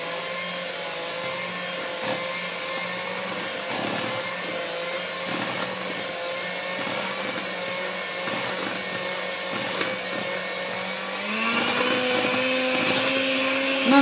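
Electric mixer whipping butter cream with oil in a bowl, a loud steady whirring drone that holds constant and rises slightly in pitch and volume near the end, no speech over it.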